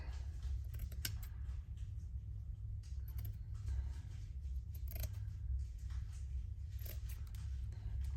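Scissors snip through fabric for a stitchery piece in a series of soft, quiet cuts over a steady low background hum, with no talking.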